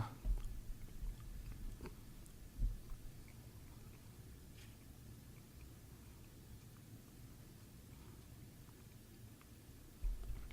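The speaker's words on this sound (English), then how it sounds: "He's chewing on the thread." Soft, close chewing on a piece of thread during a magic trick, a quiet wet mastication texture with a few sharper bites, faint and steady against a low background hush.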